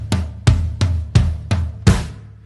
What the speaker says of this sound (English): we're going to play 8 notes on the floor tom all the way up until the 4 count